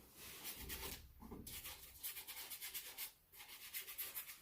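A dry paintbrush scrubs turquoise paint onto paper in quiet, close, rhythmic bristle strokes, a soft scratchy rubbing repeated in quick bursts with two brief pauses.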